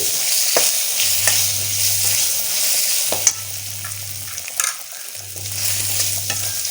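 Fennel seeds and asafoetida sautéing in hot oil in a pan for a colocasia buttermilk gravy: a continuous bright hiss with a few spoon taps and scrapes, and a low hum rising and falling underneath.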